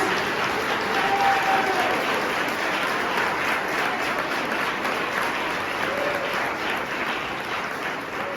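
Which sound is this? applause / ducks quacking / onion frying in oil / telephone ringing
applause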